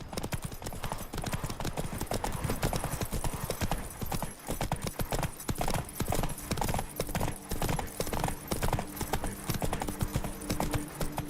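Roach the horse galloping in the video game The Witcher 3: Wild Hunt, rapid continuous hoofbeats pounding close and loud, with background noise and occasional voices mixed in.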